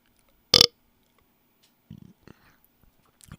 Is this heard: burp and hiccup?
yes